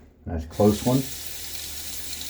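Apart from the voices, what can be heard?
tap water running for rinsing during a shave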